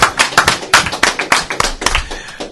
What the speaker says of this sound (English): Everybody get a round of applause to IU.